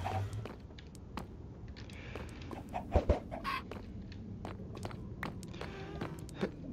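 Minecraft chickens cluck softly in a game world, scattered short clucks mixed with light footsteps and clicks, faint and irregular throughout.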